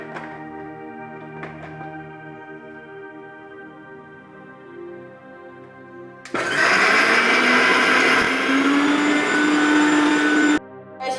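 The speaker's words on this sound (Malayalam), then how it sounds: "നമ്മുടെ മിക്സിയിലെ ജാറിലേക്ക് ചെറിയ ഉള്ളിയും പച്ചമുളകും ഇഞ്ചിയും വെളുത്തുള്ളിയും പെരുംജീരകവും ഇട്ട് ഒന്ന് നന്നായി അടിച്ചെടുക്കാം" A mixer grinder runs loud and steady for about four seconds, blending shallots, green chillies, ginger, garlic and fennel, after quieter kitchen hum and a few light knocks, then stops abruptly.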